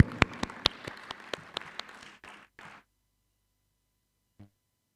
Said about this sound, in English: she still deserves a round of applause before she gives us her message